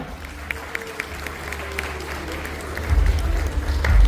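Audience applause at a stage cultural event, scattered claps at first that swell into louder crowd clapping toward the end, with some voices mixed in.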